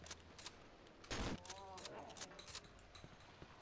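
Gunshots in the horror game Cry of Fear: one loud, close blast stands out among smaller sharp cracks and clicks, while players talk over the action.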